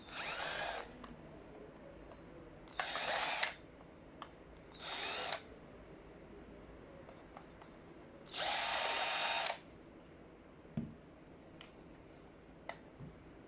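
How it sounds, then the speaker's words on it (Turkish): A power screwdriver backing out a screw on a microscope, with four short whirring bursts, the last one longest, separated by quiet gaps that hold small clicks and taps. "Şimdi bunun önce vidasını bir açalım."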